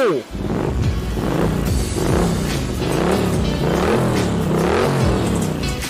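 A 2018 Triumph Street Twin 900 ABS motorcycle fitted with an aftermarket exhaust revs up and down in rising and falling surges, close and loud, with engine roar continuous throughout.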